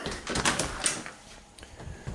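A house's front door opens onto an enclosed front porch, a short, close burst of clunks and a latch rattle, then a soft thud as it swings shut.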